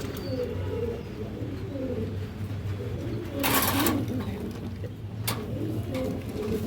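Pigeons coo steadily in a loft among an old-line silver male and a light-coloured female with a chick, low throaty calls running continuously, close by, with a couple of brief rustles or wing flaps.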